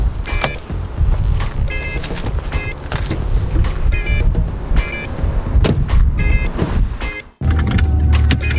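A Maserati rides on a fresh set of Michelin tires, its steady engine and road rumble close and loud throughout, with faint repeated chirps over it and a brief dip just before the end.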